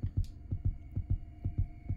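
A steady synthetic heartbeat from a visual novel horror game, Imabikisou, thumping in a regular quick rhythm of about eight soft, low beats over a faint constant hum, with no voices.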